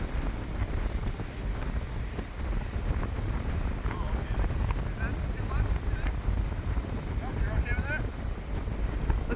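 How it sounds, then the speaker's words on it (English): Strong gusting wind on a rooftop during a roofing job buffets the microphone in a steady roar, with a voice talking intermittently beneath the rumble. "It's so windy up here."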